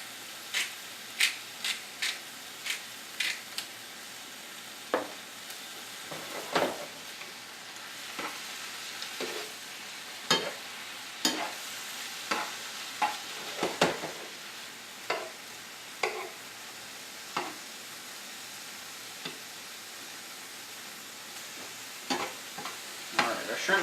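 Shrimp stir-fried in a pan with a steady, moderate sizzle, broken by repeated sharp clicks and scrapes of a utensil against the pan at an irregular pace; no one speaks.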